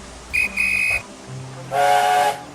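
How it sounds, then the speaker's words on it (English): A train conductor's whistle blown as a test, two short shrill blasts followed by a longer hissing steam-like whistle, loud and close with no speech. "gave her whistle a test blow"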